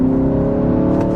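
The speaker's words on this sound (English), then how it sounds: "Wow, nice little sound of this engine." A 2020 BMW 330i xDrive's B48 2-liter turbocharged four-cylinder engine hums steadily from inside the cabin, a loud continuous drone with strong low harmonics and no talking.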